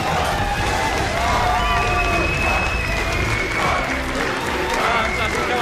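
At a League of Legends EU LCS Spring 2015 semifinal, a big esports arena crowd roars and chants in unison, loud and sustained, with scattered cheers layered over the dense, rhythmic singing.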